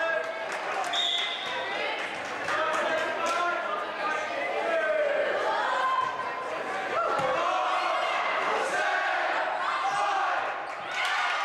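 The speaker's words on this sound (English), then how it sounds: "There the crowd kind of came to life." A high school volleyball crowd in Viroqua vs Riverdale regional play cheers and shouts continuously in a gym, lively voices rising and falling while a commentator talks over it.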